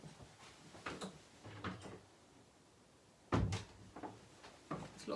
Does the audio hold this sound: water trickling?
no